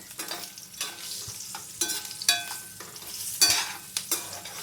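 Baby potatoes fry and get stirred in a pan at home. Repeated scraping strokes rise over a steady low sizzle, with several sharper bursts of spatula scraping and no voices.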